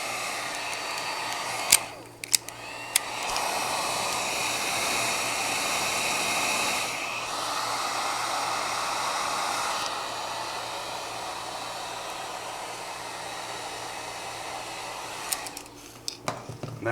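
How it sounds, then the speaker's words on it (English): A heat gun blows hot air onto car audio amplifier wiring, giving a steady broadband whoosh that runs for roughly thirteen seconds after a few clicks, then cuts off with more clicks at the end. "So what we do is we'll take a heat gun."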